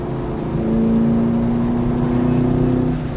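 A 2023 Camaro SS 1LE V8 pulls hard through fast laps at Waterford Hills track, its loud, steady engine drone rising slightly in pitch as it holds high revs close up, with no talking.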